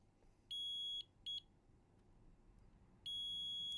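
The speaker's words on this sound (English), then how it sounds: "I'm just doing it in continuity mode, because then when it detects a very low resistance, it's going to beep" A multimeter in continuity mode, probing a motherboard BIOS area, emits short high-pitched beeps: a half-second tone, a brief blip, then a longer steady beep, faint against a quiet background.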